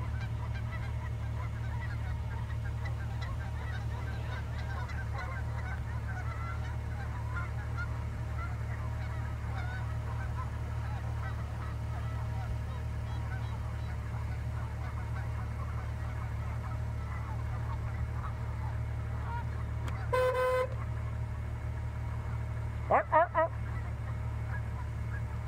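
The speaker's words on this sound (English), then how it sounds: "The field is full of geese." A field full of geese outdoors, a constant low murmur with faint distant honks, plus a couple of brief louder honking bursts near the end.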